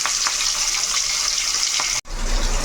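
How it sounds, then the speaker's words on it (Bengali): Fish pieces fry in hot oil in a wok, a loud, continuous crackling sizzle up close, broken by a brief instant of silence before the sizzling resumes. "মাছগুলো এবার আমি লাল লাল করে ভেজে নেবো।"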